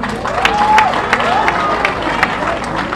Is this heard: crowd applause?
yes